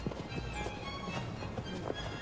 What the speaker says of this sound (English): The Queen's heavily pregnant mares have spent the day in the paddocks, and it's time to bring them in.